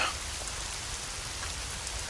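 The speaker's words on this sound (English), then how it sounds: "Gosh, the rain is loud." Loud, steady rain patters on surfaces in the stealth video game Hitman: Blood Money, a dense continuous hiss without breaks over a short stretch.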